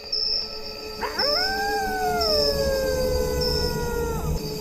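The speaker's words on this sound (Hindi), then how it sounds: "अचानक दूर से कुत्ते के रोने जैसी आवाज सुनाई दी।" A single long dog howl rises, holds and slowly falls away at night, distant yet clear over a faint background hum, with no voices.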